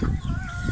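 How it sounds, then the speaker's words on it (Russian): Backyard chickens feeding in a farmyard give a short, close, soft clucking with a drawn-out tonal note, heard alone. "Покажу немножко курей наших."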